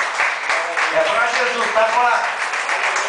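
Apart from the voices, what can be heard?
applause for Jesus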